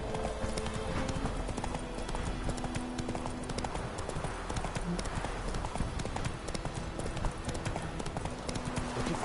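Roach the horse trots along, hooves clip-clopping in a dense, rhythmic beat that stays close and steady throughout, with other background sounds layered beneath.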